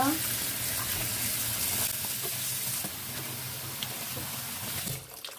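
Water poured into a pot over pork bones for gamjatang, a steady close gushing stream that runs throughout and tapers off at the end.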